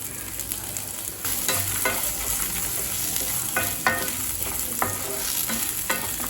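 Cinnamon, cloves, cardamom, cumin and fennel frying in oil, a steady close sizzle broken by repeated scraping stirs.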